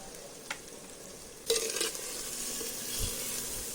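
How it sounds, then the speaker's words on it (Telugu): Tomatoes fry in masala for a goat intestine curry, a soft, steady sizzle with a few scraping stirs, one louder clatter partway through, and no talk. "ఆ మసాలాలో తిప్పుతూ అటు ఇటు కదుపుతూ మంచిగా టొమాటో బాగా వేపేసుకుందాం"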